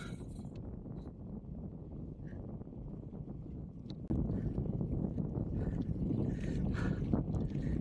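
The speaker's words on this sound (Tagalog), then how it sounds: "Salubong ulit yung hangin sa atin." A headwind gusts against a cyclist riding the Al Wathba desert cycle track, buffeting the microphone as a constant low roar that grows noticeably louder about halfway through.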